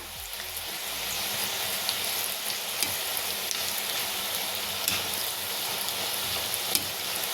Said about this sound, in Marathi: पहिल्यांदा तेल जास्त गरम असतं, त्यामुळं बारीक गॅस करून आपण ह्या तळायच्या